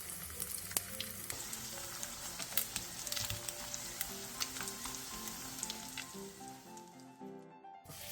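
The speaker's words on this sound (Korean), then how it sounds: "묻힌 분홍 소세지를 올려 중약불로 노릇노릇하게 부쳐주세요." Flour-coated pink sausage pan-frying over medium-low heat, a soft continuous sizzle with faint crackles and pops, quiet and close under light background music, with no talking.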